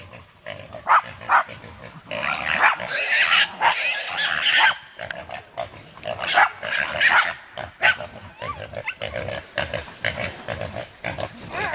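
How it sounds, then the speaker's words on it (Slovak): Small wild boar squealing amid several hunting dogs barking and yelping during a driven hunt in a Slovak vineyard, a loud, dense burst of overlapping squeals and barks with short gaps, and people call out between them. "A to treba len dopichnúť, to je malé prasa."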